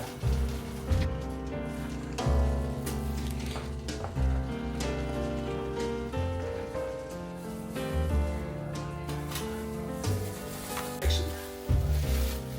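Stuffed burgers sizzle steadily on a smoker grill, a dense frying hiss with scattered pops and crackles, under intermittent musical tones and occasional low thumps.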